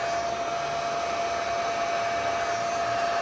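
A heat gun blows steadily over epoxy resin ocean-wave art, a close, even whooshing hiss with a faint whine, continuous throughout and with no voices.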